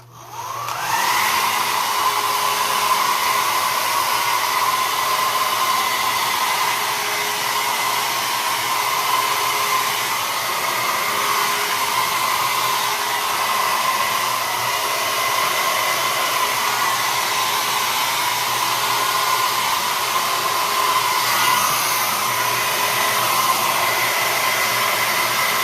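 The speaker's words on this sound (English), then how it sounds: "So you want to blow dry down." A handheld hair dryer blows steadily on a beard while it is combed or brushed straight, a continuous close, loud whooshing roar that holds for the whole stretch with no talk.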